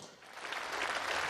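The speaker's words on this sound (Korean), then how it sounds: "국민의힘과 국무위원들은 여러 차례 박수를 보냈습니다" Lawmakers from the People Power Party and cabinet ministers in South Korea's National Assembly applaud after President Yoon's budget speech, a brief, dense burst of clapping that swells slightly toward the end.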